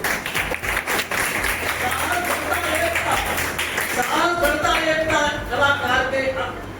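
Audience applause at an honour ceremony marking the close of a painting workshop in Bareilly, steady clapping running throughout over a sung or chanted voice.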